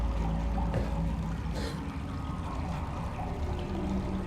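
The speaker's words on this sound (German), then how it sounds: "Da läuft Wasser aus der Wand, also durch." Water running out through a wall in the sci-fi game The Invincible, a steady, dense pouring rush that holds at an even level throughout with no talk over it.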